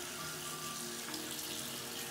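Tap water runs steadily into a sink while a small makeup brush is swirled around a bar of soap, a continuous close, even hiss with no talking.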